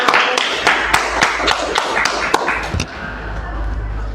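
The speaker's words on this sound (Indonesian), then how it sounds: "Tepuk tangan." A classroom group claps in scattered, uneven beats, close and fairly loud for about three seconds before the applause fades into quiet room noise with faint voices.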